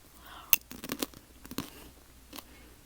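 Crunchy popcorn chewed up close in an ASMR setting, a few sharp crunches and bites in quick clusters, then a softer crunch, no talking.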